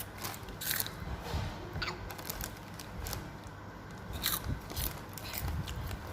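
Someone bites into and chews a crunchy snack, giving repeated sharp crunches at irregular intervals, close and fairly loud, over a steady outdoor background.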